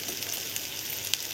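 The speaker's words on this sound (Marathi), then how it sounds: "हे पण छान फ्राय करूया।" Turmeric, coriander and chili powder frying in a pan make a steady, even sizzle with faint crackles, close and unbroken.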